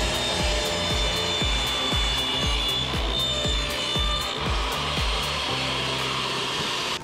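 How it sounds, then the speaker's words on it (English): A table saw running a dado cut through cabinet wood, a loud continuous whine with a rapid regular pulsing from the blade, close by and uninterrupted to the end. "so now we're ready to run this dado"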